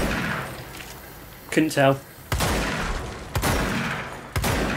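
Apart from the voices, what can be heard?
gunfire shooting targets in video game Control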